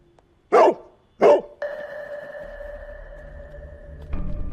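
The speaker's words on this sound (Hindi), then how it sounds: "हाय स्टूपिड डॉगी, किसका बम सूंघने का है तेरे को?" A dog gives two sharp, loud barks close by, followed by a long, steady electronic tone over low background rumble.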